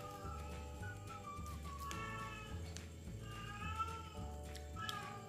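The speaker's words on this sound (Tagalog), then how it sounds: "nag-iingay yung pusa ko" A pet cat meows repeatedly in a home kitchen, a series of clear drawn-out cries over a steady low background hum, with no talking.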